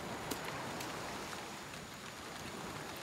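Heavy rain pours onto a sandy tropical beach, a dense, steady hiss of drops with no pauses and no voices.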